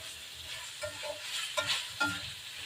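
Broccoli being stirred in a hot pan, a low sizzle with a few soft scraping knocks from the utensil at irregular intervals, quiet and close, with no voices.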